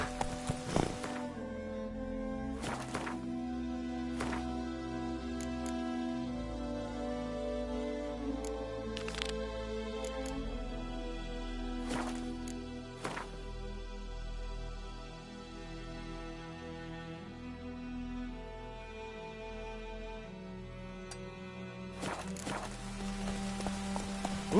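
A horse walks in The Witcher 3: Wild Hunt, with soft intermittent clip-clop hoofbeats spread out over a quiet background and sharp clicks scattered throughout.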